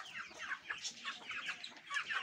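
A black hen clucking close by in a rapid run of short, bright calls, loud and alone.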